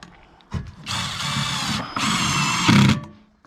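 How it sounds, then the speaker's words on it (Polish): Cordless screwdriver driving a screw while building a chimney cap, two close, loud whirring bursts separated by a brief pause, the second ending in a strained, lower-pitched grind as the screw seats. "I teraz ładujemy wkręta. Daj wkrętarkę."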